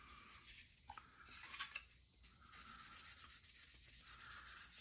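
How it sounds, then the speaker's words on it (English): Light-pressure color sanding on the painted body of an AMT 2018 Dodge Challenger Demon model kit, soft gritty rubbing strokes at close range, briefly pausing, then resuming in steady back-and-forth scrubs. "this is color sanding"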